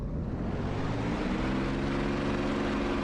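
Steady droning engine of a TF-51D Mustang propeller aircraft in DCS World at takeoff, a loud continuous roar with a low tone rising slightly in pitch as power builds.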